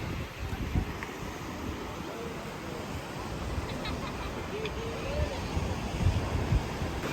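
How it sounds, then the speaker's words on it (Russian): Icy wind sweeps across a beach, a steady rough rumble of gusts buffeting the microphone throughout, with faint voices in the background. "Но ветер ледяной."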